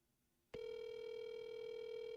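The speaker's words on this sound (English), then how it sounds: "Third ring." An outgoing telephone call's ringback tone starts abruptly and holds as one steady, loud electronic tone with no talk over it.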